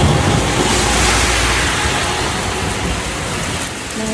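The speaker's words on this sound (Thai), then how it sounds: "แบบฝนตกฟ้าร้องลมกระหน่ำขนาดนี้มาก่อนเลย" Heavy rain pours in a storm over Clonmel in Ireland during a holiday weekend, a loud, dense, steady roar of rain and gusting wind close by, with no pauses.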